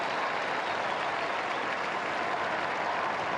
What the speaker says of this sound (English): they're all applauding and cheering